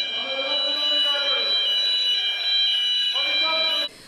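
A fire alarm sounds during an earthquake and fire drill at Fırat University Hospital in Elazığ, a loud, steady electronic tone with harmonics that runs nearly continuously for about four seconds before cutting off abruptly.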